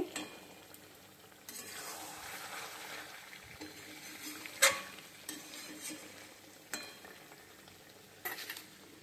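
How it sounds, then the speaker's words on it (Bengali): Spice paste of ginger, cumin, red chilli and Kashmiri chilli powders, tomato paste, garlic and onion being sautéed in a pan for Bengali pulao and meat, giving a soft steady sizzle with occasional clinks and scrapes of stirring, no talk. "আদা বাটা, জিরে বাটা, লাল মরিচের গুঁড়া আর কাশ্মীরি লঙ্কার গুঁড়া, টমেটো পেস্ট আর রসুন বাটা, পেঁয়াজ বাটা সব কিছু দিয়ে ভালো করে কষিয়ে নিচ্ছি।"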